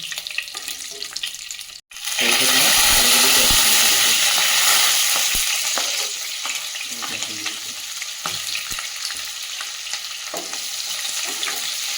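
Bay leaves drop into hot oil in a pan on a gas flame. A sudden loud, close sizzle and crackle starts after a brief gap, then settles into a steady, softer frying hiss with no talking.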